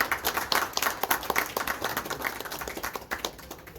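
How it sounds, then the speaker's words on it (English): Audience applause for a guest speaker after a talk on sailing life in Australia: dense, steady clapping from a room full of people, fairly close, tapering slightly toward the end with no voices over it. "Another round of applause for John."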